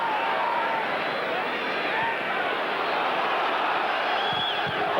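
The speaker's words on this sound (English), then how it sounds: "every challenge will be met by uproarious roars of delight from the home crowd" Home crowd roaring at Preston's FA Cup third-round football match against Arsenal, a loud, continuous wash of stadium noise with no break.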